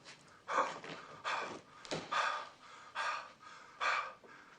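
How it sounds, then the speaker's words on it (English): Heavy, deliberate breathing close to the mic: six or so loud, rasping breaths in a slow, even rhythm with brief pauses between. "When you hear the little beep, I shall commence my heavy breathing."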